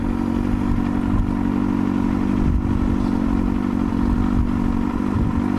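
A motorcycle idling in neutral after the clutch is pulled in and the rider kicks down from second gear; a close, steady mid-pitched engine drone with light mechanical clatter and no distinct revs or clunks.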